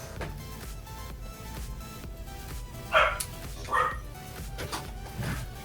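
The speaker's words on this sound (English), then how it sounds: "There's the dog." A dog barks a few times in the background, short sharp yips spaced apart, faint and somewhat distant beneath a low steady room hum, with no talk over it.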